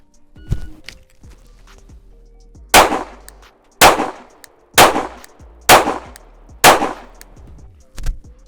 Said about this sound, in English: first dot is draw and fire 5 rounds into the first circle